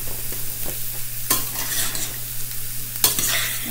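Shrimp and couscous stirred in a heated skillet: a soft continuous sizzle with a low hum beneath and a couple of sharper scrapes as the spoon drags across the pan.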